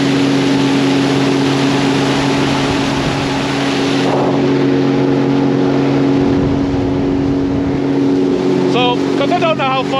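Sea-Doo personal watercraft engine running on Lake Ontario with a loud, steady droning roar, up close and continuous. Wind and water rush over it, and the engine note shifts partway through.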